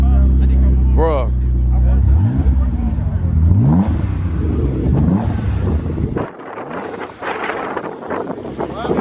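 An 800+ HP twin-turbo Nissan 370Z running on E85 revs hard up close, with rising engine sweeps and loud wind buffeting the microphone, while people talk over it.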